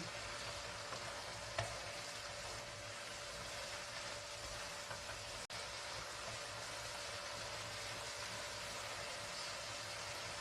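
Kimchi and onion fry in a pan with a steady, dense sizzle throughout, broken by a couple of faint clicks from stirring.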